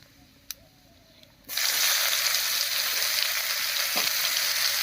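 Chopped onions drop into hot mustard oil already tempered with dried red chillies, whole cumin, whole garam masala and a bay leaf. After a quiet start, a sudden loud sizzle bursts up and stays as a steady, close hiss.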